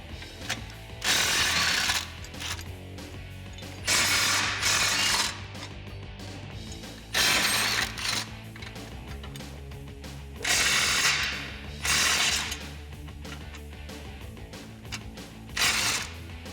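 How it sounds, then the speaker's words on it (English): A ratchet with a 16mm socket removing bumper support brackets from a Jeep Gladiator, giving close bursts of rapid clicking that recur about every two to three seconds over a steady background hum. "Grab a 16mm socket, we're gonna get these removed."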